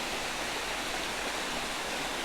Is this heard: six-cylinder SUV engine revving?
no